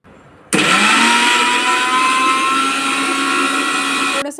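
A kitchen mixer grinds ginger, beetroot and amla, kicking in abruptly after a brief quiet moment and then running loud and steady with a high motor whine until it stops.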